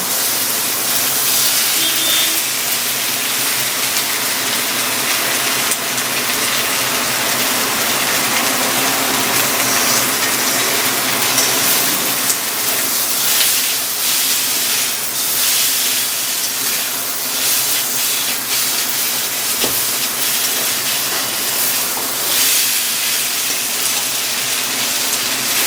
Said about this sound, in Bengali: এবার মশলা দিয়ে আস্তে আস্তে করে আমি ভেজে নেব